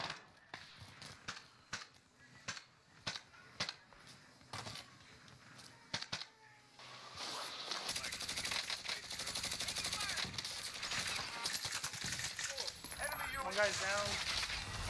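Gunshots in a multiplayer shooter match, first as scattered sharp cracks and short bursts with players talking between them, then swelling into a busier, continuous stretch of firing and clatter mixed with chatter.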